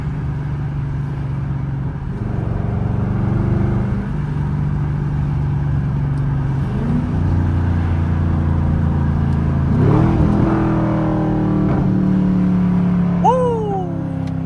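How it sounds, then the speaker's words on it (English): Chevrolet Camaro SS V8 rumbling steadily, then blipping its revs in a series of sharp downshifts as it slows for a light, loud and close from inside the car. "Let y'all hear the downshifts."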